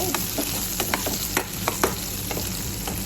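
Onion, garlic, ginger and chili fry in a pan with a steady close sizzle, broken by scattered sharp scrapes and taps as a utensil stirs them.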